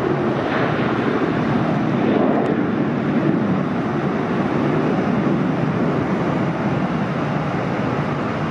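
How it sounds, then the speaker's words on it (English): A large airliner at LAX roars loudly and steadily, a broad rumbling jet noise filling the whole stretch with wind buffeting the microphone. "Beautiful looking airplane."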